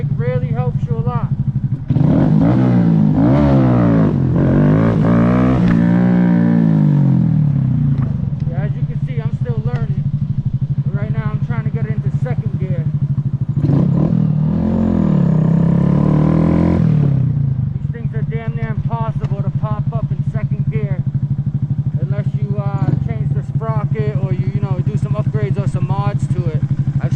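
A stock Honda Grom motorcycle revs hard in first gear while popping wheelies, the engine rising and falling in bursts with speech over it throughout.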